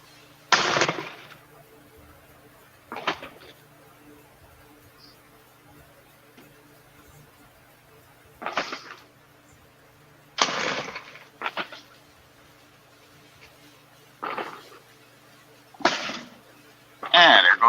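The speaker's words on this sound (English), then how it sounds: "And there goes my fireworks." Fourth of July fireworks burst somewhere off in the distance, several sharp bangs and crackles spaced irregularly over a quiet background, some arriving in quick pairs.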